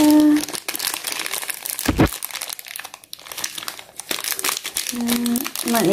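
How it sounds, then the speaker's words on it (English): Plastic packaging around a Sylvanian Families toy chair crinkles and crackles continuously up close as it is handled and opened, with a person speaking briefly at the start and end. "Next, I'm going to open this chair."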